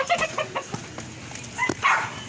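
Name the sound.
chickens clucking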